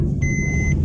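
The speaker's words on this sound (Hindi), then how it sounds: "भाई साहब देखो आवाज कर रही गाड़ी, बेल्ट लगा लो हमारी तरह।" A car's seatbelt warning chime sounds once as a short, clear electronic beep, heard close inside the cabin over the low rumble of the running vehicle.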